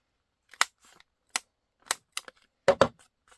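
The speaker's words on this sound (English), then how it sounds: "I'm just going to round corner the bottom corners" A hand corner rounder punch cutting the corners of a paper gift tag, a few separate sharp clicks and snips with short silences between, the last two coming close together, in a quiet room.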